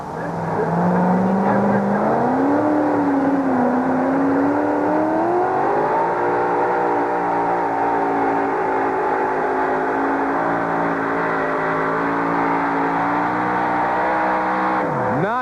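Engine of the Aftershock monster truck at a 1991 USHRA sled pull in Uniondale, a loud, sustained roar climbing in pitch and holding steady at high revs, with an announcer talking over it.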